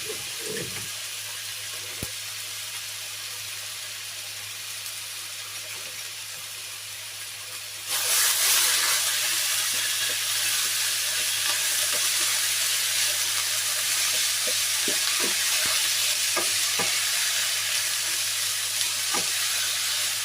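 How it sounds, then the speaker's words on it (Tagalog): Frozen ground beef dropped into a hot pan for giniling, a loud steady sizzle and hiss that jumps up sharply and holds, with occasional small crackles over a low hum and no talking. "ilagay muna natin yung giniling natin kasi naka-frozen yan. So, igisa muna natin yan guys na wala pang ibang"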